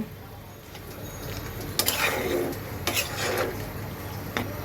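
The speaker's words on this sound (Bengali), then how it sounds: "জলটা দেওয়ার পরে একটু নেড়ে দেবো" A spoon stirs vegetable curry in a pot just after water is added, producing a few soft scraping strokes and light clinks against the pot over a quiet kitchen background.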